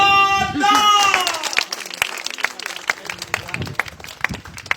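Audience applause welcoming a performer onto the stage at a live comedy drama show; a brief musical or vocal flourish gives way to a few seconds of steady, close clapping from the crowd.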